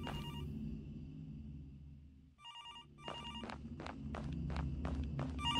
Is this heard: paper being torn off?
no